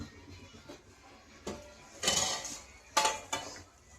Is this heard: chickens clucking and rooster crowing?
no